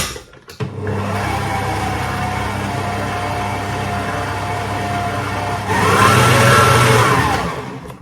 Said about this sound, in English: So we just whisk this again.